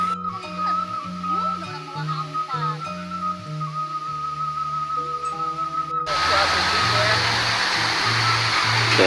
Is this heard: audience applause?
no